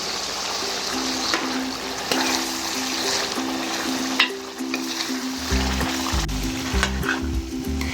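Black chickpeas (kala chana) roasting with yogurt in ghee over medium heat, a steady close sizzle and frying crackle with occasional stirring scrapes and a low rumbling hum throughout.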